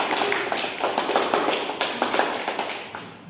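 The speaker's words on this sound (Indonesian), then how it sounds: "Tepuk tangan dulu untuk Mila." Scattered hand clapping from a small class of students in a classroom, a thin, uneven patter of claps lasting a few seconds, fairly close.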